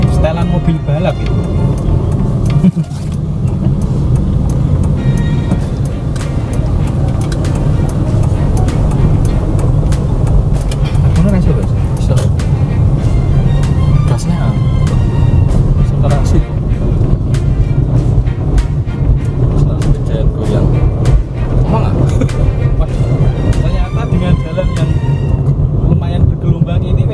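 A Toyota Etios engine hums and rises as the car accelerates along a smooth road, heard from inside the cabin with a voice talking over it.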